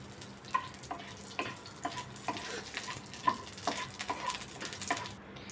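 Whole cinnamon, cloves and cardamom sizzle in hot oil, a continuous soft fry broken by repeated light scraping clicks of a spoon stirring, fairly quiet and close, with no voices.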